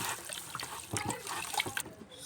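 Hot water, about ten liters, is poured into a bowl and stirred while making hair conditioner, giving close, soft splashing and trickling with irregular sloshes, quiet and without speech.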